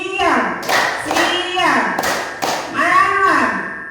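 Group of schoolchildren clapping in rhythm to a chanted clap game, sharp hand claps in short patterned bursts heard under and between sung voices.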